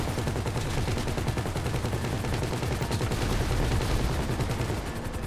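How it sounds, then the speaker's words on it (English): Sustained minigun fire from a vehicle-mounted turret in GTA V, a dense, unbroken roar of rapid shots lasting the whole stretch, loud and close with no talking over it. "I'm in the minigun on the left side and someone's on the right side."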